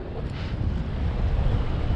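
Strong wind at Fort Pierce Inlet, sustained near 24 mph with gusts of 30, roars against the microphone as a loud, continuous low buffeting with no voices.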